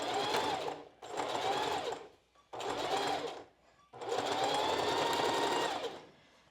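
A sewing machine stitches a seam on a strapless bra in four close bursts of rapid mechanical whirring. Short silent gaps separate them, and the last run is the longest.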